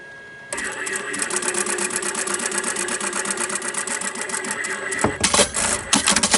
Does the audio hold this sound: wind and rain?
no